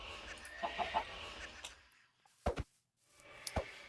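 A chicken in a modded video game gives short, faint clucks in small bursts separated by quiet gaps.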